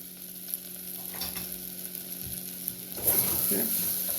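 Masala khichdi with turmeric and salt is stirred in a pan, a faint sizzle with soft scraping strokes, growing louder and busier toward the end.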